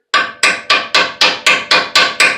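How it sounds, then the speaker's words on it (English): Nine sharp metallic hammer blows at a steady, quick rhythm, each ringing briefly, striking a stuck wheel speed sensor on a 2007 Chevrolet Colorado; close and loud with no talking. "Let's try my hammer trick."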